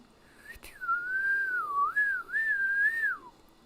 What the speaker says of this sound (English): I can whistle a little bit.